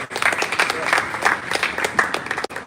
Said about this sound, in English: A round of applause for our amazing speaker.